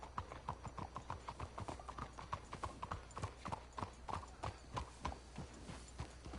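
Steady rapid clip-clop of horse hooves on hard ground in the video game Red Dead Redemption 2, several horses moving at a walk at night, with a faint voice murmuring beneath.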